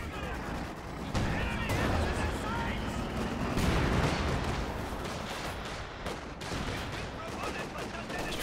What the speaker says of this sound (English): gonna pop off some MG34s now